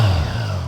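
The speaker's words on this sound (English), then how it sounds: "Go ahead and start it up. Got that classic Triumph triple sound." Triumph Tiger Sport 660 motorcycle with an inline-triple engine starting and settling into a steady, close, loud idle with a low throbbing exhaust note, no voices.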